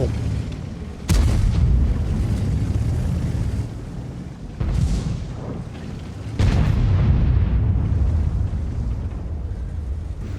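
Tank cannon fire in World of Tanks, with loud booming shots arriving at the start, mid-clip and again later, each followed by a dense, rumbling roar of battle noise throughout.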